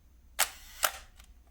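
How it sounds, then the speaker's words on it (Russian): Kiev 19 film SLR firing its mechanical shutter with no batteries fitted, two sharp, close clicks about half a second apart, followed by a fainter mechanical tick. "Здесь даже без батареек мы спокойно можем фотографировать"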